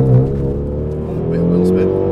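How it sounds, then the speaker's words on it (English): Renault Megane RS Cup pulling away with a brief chirp of wheel spin, its engine droning loud and steady close by as it accelerates, with a voice talking faintly underneath. "a bit of wheel spin"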